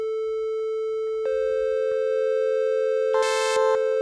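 A steady, pure triangle-wave tone from a Hydrasynth Explorer synthesizer oscillator drones on with a soft, rounded timbre, with faint clicks and a brief brighter burst partway through.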